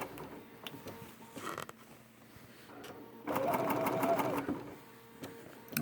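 A Bernina sewing machine fitted with a number 71 foot sews quilt binding, first with faint intermittent clicks and handling, then in one loud steady burst of stitching that stops abruptly.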